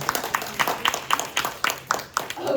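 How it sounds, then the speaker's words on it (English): A small part of a comedy club audience claps in a loose, uneven patter, about a dozen quick claps close to the microphone, with a voice heard briefly near the end. "can all of the Daisies just clap it up really quickly?"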